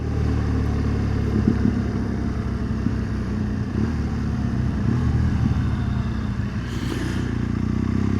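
A motorcycle engine runs steadily throughout, a continuous low drone with some rattle and clatter, fairly loud and close, with no voices.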